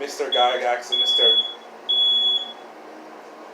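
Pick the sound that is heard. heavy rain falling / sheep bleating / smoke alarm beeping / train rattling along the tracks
smoke alarm beeping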